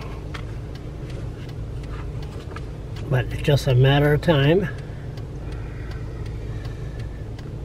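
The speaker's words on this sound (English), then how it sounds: "Heavy traffic." Heavy road traffic on the old Trans-Canada Highway near Kingsclear First Nation hums steadily in the background, with a voice talking briefly over the continuous vehicle noise.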